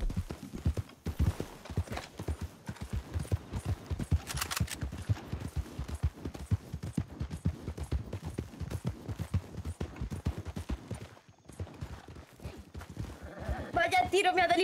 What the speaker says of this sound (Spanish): Aquí hay un caballo.